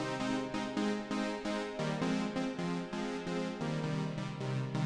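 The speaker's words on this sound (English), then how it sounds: "that sound is coming from the Tetra and going through" A Dave Smith Tetra synthesizer plays a bright, buzzy pattern of pulsing chords in a steady rhythm, fairly quiet and with no talking.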